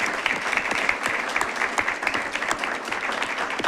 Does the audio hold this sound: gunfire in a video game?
no